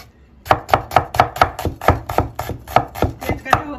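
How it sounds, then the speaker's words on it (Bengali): Onions chopped with a knife on a board for beef biryani, about a dozen crisp, even, close chops in a steady rhythm, with no talking. "পেঁয়াজ কাটা হচ্ছে, পেঁয়াজ কাটছেন আমার উনি"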